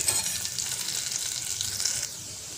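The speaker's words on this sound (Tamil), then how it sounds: "மிளகு, ஜீரகம், இஞ்சி, முந்திரி பருப்பு எல்லாத்தையும் போட்டு நல்லா ரோஸ்ட் பண்ணிக்கோங்க" Pepper, cumin, ginger and cashews roast in a pan with a steady, hissing sizzle that drops noticeably quieter near the end.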